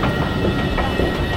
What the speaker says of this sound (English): That's our train, bro.